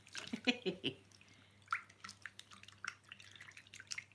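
Water dripping and splashing while makeup brushes are washed at a sink, a run of small close drips and trickles with brief brush-handling sounds, no talking.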